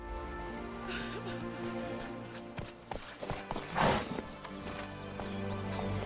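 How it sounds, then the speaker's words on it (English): Horse in The Witcher 3: Blood and Wine trots with repeated hoof clip-clops and a neighing whinny midway, set over a steady game music bed at a low level. "This wouldn't be as annoying if my horse was running at full speed"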